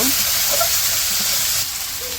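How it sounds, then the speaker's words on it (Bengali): Ginger garlic paste hits fried onions and whole spices in a hot pan for a home-style curry, giving a steady, close, loud sizzle with no talk. "এখন এই যে আদা রসুন বাটা দিয়ে দিল"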